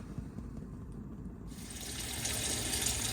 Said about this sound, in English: Here we've got your hot water running.